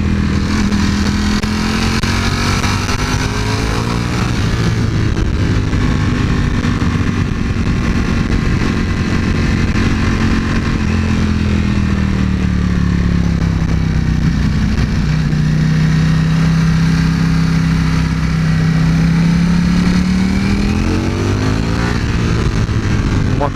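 A Ducati Panigale V4 S motorcycle on a test ride, its engine loud and close throughout, pitch rising and falling as it revs up, shifts and winds down, with steady wind roar over the whole ride.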